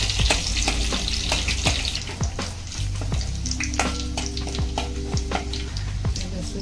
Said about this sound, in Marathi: तेल आता तापलंय, त्याच्यात मी या 2 पाकळ्या लसणीच्या ठेचून घेतलेल्या आहेत ते टाकूया